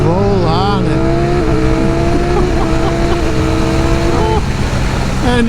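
A 2023 Ducati Streetfighter V4 S with its Panigale-derived V4 engine winds up hard, its rising and falling engine pitch sweeping through gear changes, loud and close, with a rider talking over it.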